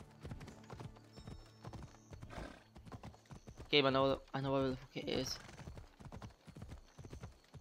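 Horse hooves clip-clop steadily in Assassin's Creed Odyssey, with a whinny partway through and someone talking over the footsteps.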